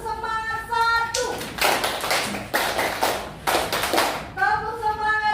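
A group in an Indonesian classroom session performs a rhythmic tepuk semangat clap, several bursts of sharp collective claps in a patterned beat, with a sung or spoken melodic voice before and after.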